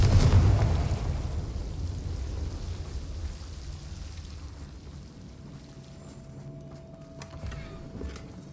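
A fiery Confringo spell explosion from Hogwarts Legacy hits with a loud boom at the start, then fades into a long rumbling, crackling tail.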